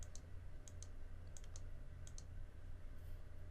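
A computer mouse clicks in a run of short, faint, irregularly spaced clicks over a steady low hum while nesting software is operated, with no talking.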